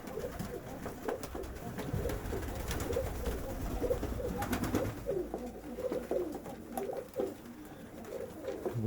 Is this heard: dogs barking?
no